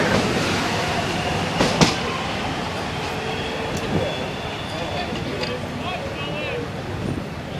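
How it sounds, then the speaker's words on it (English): Train arriving at Jolimont station in a suburban rail setting, a rising rumble of wheels on track with squeals and clatter, two sharp clicks early, while people talk nearby. "Train is due to arrive at about 24 and a half seconds."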